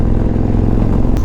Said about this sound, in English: And here comes Sean riding the Thunderstroke.